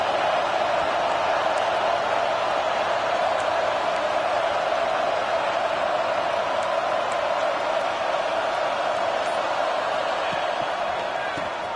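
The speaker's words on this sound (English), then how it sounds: "The roar of the crowd trying to fuel this defense to keep them pinned in their own end." A loud, steady roar from a big stadium crowd at a football game, a dense continuous wash of cheering that holds level for the whole stretch with no clear breaks.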